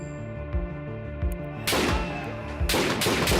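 Gunfire during a protest recorded on a journalist's camera, heard as a few sharp, loud reports at irregular intervals, with a cluster of shots bunched together toward the end over a steady background hum.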